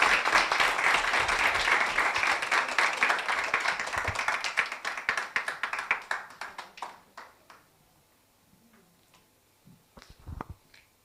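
Audience applause at a live feminist gathering in Africa, dense and steady for about six seconds before thinning into scattered individual claps and fading to near silence, with a couple of isolated taps near the end.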